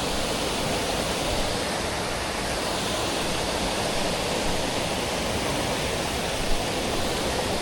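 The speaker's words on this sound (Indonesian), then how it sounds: "ada aliran sungai juga di sini ya" A river stream near a hidden waterfall at Curug Roda, Pacet, rushes in a dense, constant broadband roar, close and loud with no pauses.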